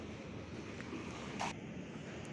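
Strong wind blusters past a new bus fresh from the coachbuilder on the Malang–Denpasar route, a steady low roar of gusts with faint rattles and a brief sharp burst partway through, no voices.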